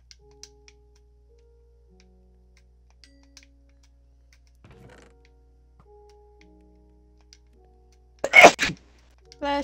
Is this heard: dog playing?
no